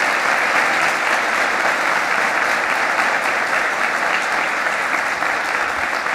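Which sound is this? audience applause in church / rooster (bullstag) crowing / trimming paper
audience applause in church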